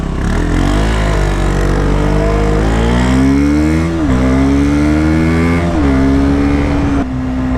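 A KTM Duke 125 motorcycle engine drones loud and close, its pitch rising and falling through several revs and gear changes with a buzzy, harmonic-rich tone throughout.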